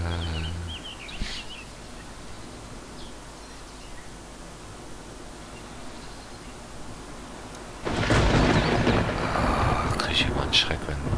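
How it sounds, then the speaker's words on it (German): A thunderstorm in the survival game DayZ Standalone: a quiet ambient stretch, then a loud, broad rumble of thunder rolling in near the end and sustaining for several seconds. "Gewitter kommt."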